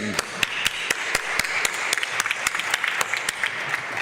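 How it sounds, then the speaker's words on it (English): Steady applause from a summit audience welcoming a speaker, dense clapping with a few sharper nearby claps standing out through the four seconds. "an applause to Carmen"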